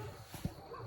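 Village dogs bark at night, one short sharp bark standing out over a low background hum, fairly close and brief.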